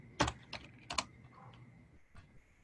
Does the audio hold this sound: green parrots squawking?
no